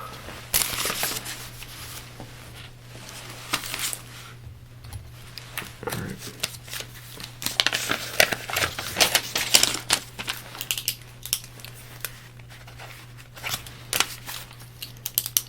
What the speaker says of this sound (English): I feel like I should write this down, huh?